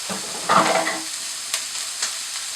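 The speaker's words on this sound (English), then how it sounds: "onion and carrot have just started to sweat" Onion, carrot, chilli and garlic hitting a hot pan, a burst of loud close sizzling that fades to a steady hiss, with a couple of brief stirring scrapes and no voices.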